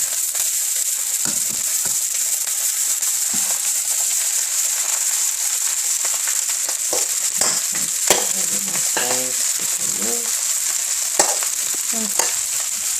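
Hibachi beef fried rice sizzling and frying in an oiled pan while being stirred and mixed, a steady loud hiss with scraping spatula strokes breaking through irregularly, no talking.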